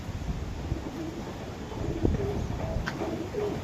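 A breeder pigeon gives soft, low cooing, a few short murmured calls close by over a steady background hiss.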